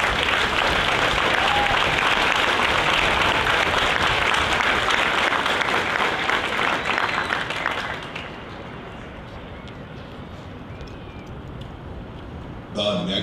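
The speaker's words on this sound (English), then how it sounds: "please join me in a round of applause for the company staff of Company F" Audience applause at a Marine Corps recruit graduation ceremony at the San Diego Recruit Depot, loud and sustained for about eight seconds before fading to a quieter background murmur, with a brief burst again at the end.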